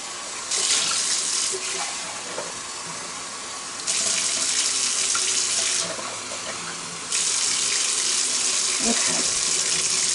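Tap water runs from a faucet into a measuring cup for rice in a home kitchen, a steady splashing hiss in three bursts with brief pauses between them, close and fairly loud.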